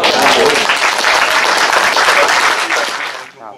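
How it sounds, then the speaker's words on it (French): An audience at a gathering of mayors gives a burst of applause, a dense wash of clapping that holds strong and then tapers off near the end. "Ça mérite peut-être vos applaudissements."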